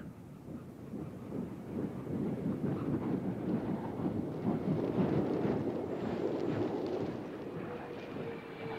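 Space Shuttle Endeavour rolls down the runway after nose-gear touchdown with its drag chute deployed, giving a broad, distant rumbling roar that swells and then slowly fades.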